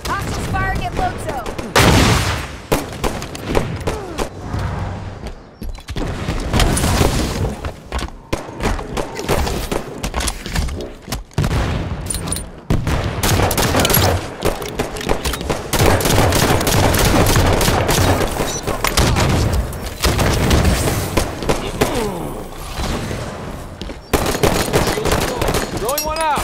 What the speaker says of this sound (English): Hostiles firing at Lozo.